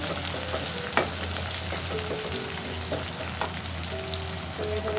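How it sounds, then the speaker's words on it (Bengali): Chopped onion frying in oil in a pan, a steady close sizzle with occasional stirring clinks and scrapes, background hum underneath, no talking. "কিছু পেঁয়াজ কুচি দিয়ে দিলাম এটাকে আমরা তেলের মধ্যে ভালোভাবে ভেজে নেব"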